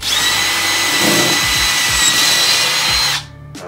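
A power drill runs loudly and continuously for about three seconds into a laminated sheetrock wall, then cuts off with a short final whir.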